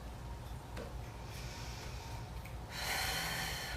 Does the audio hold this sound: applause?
no